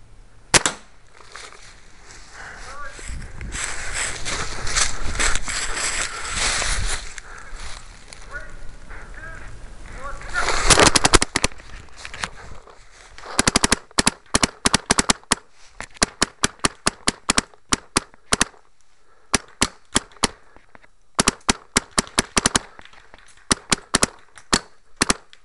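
Paintball guns fire during a two-on-one paintball game, first a dense noisy stretch, then many sharp, loud pops in quick bursts and singles with brief gaps between.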